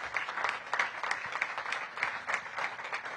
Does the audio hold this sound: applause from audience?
yes